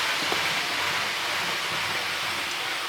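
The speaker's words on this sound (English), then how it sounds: "the same shot with the train going along in the background" A model railway train runs along its track nearby, producing a steady, dense rushing rumble that stays constant throughout with no pauses or voices.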